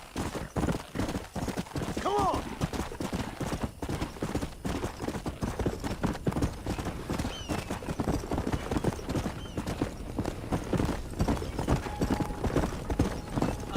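Horse hooves clip-clop in a steady rapid rhythm in Red Dead Redemption on Nintendo Switch, with brief whinny-like tones and a faint voice now and then beneath the galloping.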